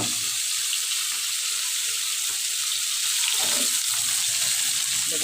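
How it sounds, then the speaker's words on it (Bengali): Pieces of rui fish fry in a pan with a dense, steady hiss and crackle of hot oil, heard close up and without any talking. "দেখেছে বন্ধুরা, মাছ ভাজিটা হয়ে গেছে।"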